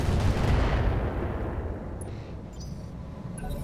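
Heavy mech weapons fire in Roguetech, a loud booming volley with a dense rumbling tail that fades, followed by quieter sharp impacts and clicks.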